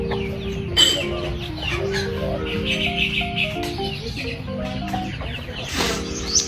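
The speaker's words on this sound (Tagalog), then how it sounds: "Dami niya manok ko." Chickens cluck and chirp in a busy farmyard, with steady low background noise and a few sharper calls standing out.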